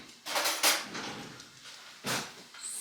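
Metal cutlery rattles and clinks as a spoon is pulled from a kitchen drawer, two clusters of close, bright jangling with a quieter clink at the end.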